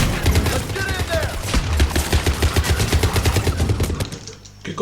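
Sustained rapid gunfire from Mass Effect 3 Legendary Edition rattles loud and close in a dense burst of shots for about four seconds, then drops away abruptly.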